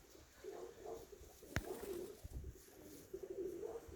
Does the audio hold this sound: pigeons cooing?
yes